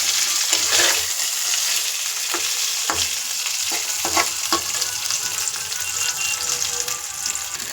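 Pre-fried potato pieces sizzle and crackle in a pan of fried onions for an egg dish, with steady frying hiss broken by several sharp scrapes and clinks of stirring.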